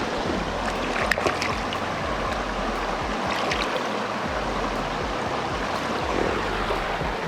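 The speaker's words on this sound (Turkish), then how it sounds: "Oradaki şelale kadar büyük değil ama ya buradaki şelale de güzel." Waterfall at Hasanboğuldu pond in the Kaz Mountains, a cold mountain stream spilling over rocks, with a continuous rushing hiss close by that stays steady and unbroken and has no voices over it.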